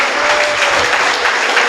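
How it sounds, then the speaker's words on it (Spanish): A church congregation bursts into loud, dense applause during a sermon, continuous clapping filling the space for a moment without any speech. "a quien pido un poderoso y fuerte aplauso"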